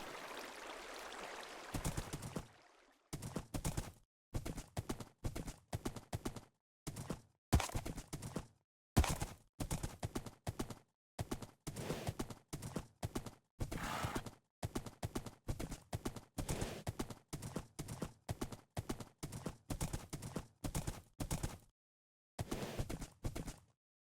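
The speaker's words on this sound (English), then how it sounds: "for now we can just enjoy the peaceful horseback riding ASMR" Horse hooves clip-clop steadily in Minecraft as the horse is ridden, in short regular bursts broken by brief silent gaps, crisp and fairly close with nothing else underneath.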